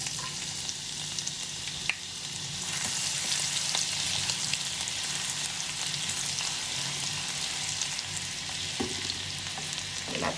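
Finely chopped ginger and garlic fry in a pan with a steady, moderately loud sizzle, broken by an occasional stir or clink.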